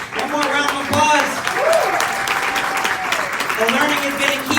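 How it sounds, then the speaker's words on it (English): Loud, sustained applause and cheering from an audience closing a panel discussion on diversity and inclusion in storytelling, many hands clapping continuously with voices calling out over it. "One more round of applause."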